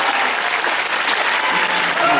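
Crowd applause at an outdoor Tokyo Rainbow Pride stage performance in Yoyogi Park, a steady dense clapping that holds evenly throughout with faint voices mixed in.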